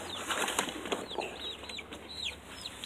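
Thirty-day-old buff Orpington chickens chirp and cluck in quick, close, fairly quiet calls, with wings flapping briefly and a sharp knock near the end.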